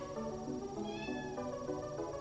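A cat meows softly indoors, one drawn-out, wavering call over a steady background, fairly faint and with no voices.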